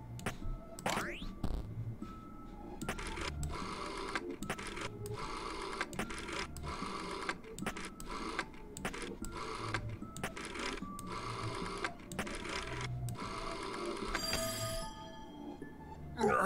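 A telephone rings in the video game There is No Game with a rapid, rattling bell that keeps buzzing in a long, dense run of repeated strokes, fairly prominent and almost continuous.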